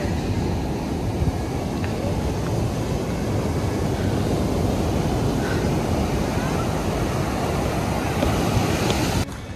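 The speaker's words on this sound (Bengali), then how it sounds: "রাতের সমুদ্রটা দেখতে অসাধারণ লাগছে" Sea waves roll onto the beach at Puri at night in a continuous, dense roar with steady wind noise, unbroken throughout and with no speech.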